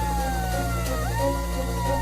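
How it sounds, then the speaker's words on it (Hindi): A village alert siren in an elephant-affected area of Chhattisgarh, India, wails and sweeps up and down steadily over a constant low rumble, loud and continuous throughout. "अधिकारी जिला मुख्यालयों से ही ऐप के माध्यम से गांव में अलर्ट सायरन बजा देते हैं।"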